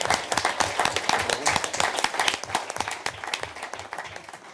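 Audience applause at a Senate socialist group event, sharp distinct hand claps in a lively irregular patter that builds then gradually thins toward the end, fairly close and loud.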